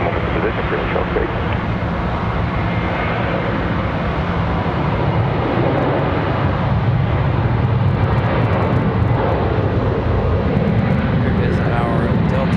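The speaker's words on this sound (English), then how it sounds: "Here is our Delta 737." Delta Boeing 737 jet airliner at Charlotte Douglas airport, a loud steady roar of engine noise that holds throughout, with talk faintly mixed in.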